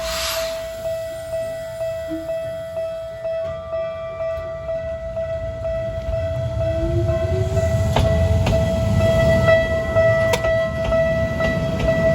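A Shinkansen high-speed train rushes past near Mount Fuji with a steady, building roar and faint clatter, and a sustained high-pitched tone rings throughout.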